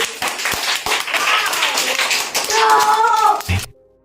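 Audience clapping at a Hindi poetry recitation event, scattered sharp hand claps mixed with crowd noise and voices, loud and close, ending abruptly.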